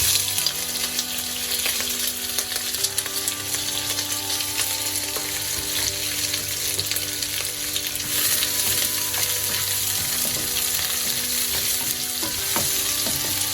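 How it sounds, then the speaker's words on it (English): Sliced onions frying in hot oil in a pan for a vegetable biryani, giving a steady, dense sizzle that carries on evenly throughout, close up with no voices. "here I'm frying the onions"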